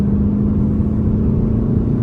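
Inside a Volkswagen Golf 7 GTD with the 2.0 TDI-CR 184 hp diesel, a steady, loud, low engine drone plays through the cabin speakers, holding an even hum throughout with no talking.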